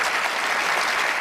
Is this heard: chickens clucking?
no